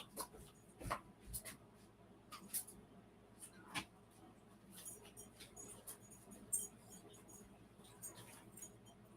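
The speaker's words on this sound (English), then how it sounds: "My dog's over here trying to tear up my floor covering." A dog scratches and tears at an indoor floor covering, giving irregular soft scraping bursts and occasional louder scuffs, fairly quiet and close by, with no one talking.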